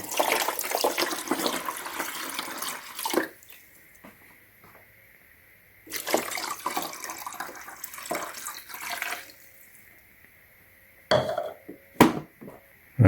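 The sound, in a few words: fresh water poured into an ice maker machine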